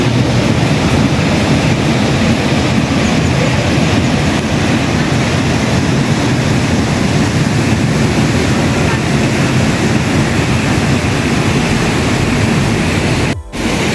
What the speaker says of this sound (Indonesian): Dan ini dia sungai yang kita maksud,